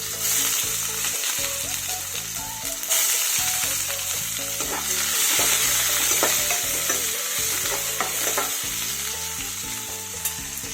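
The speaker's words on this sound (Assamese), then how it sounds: "কাটি থোৱা পিঁয়াজখিনি দি দিছোঁ।" Chopped onions fry in hot oil for a simple Assamese potato curry, giving a steady loud sizzle with scraping and stirring clatter throughout and no talking.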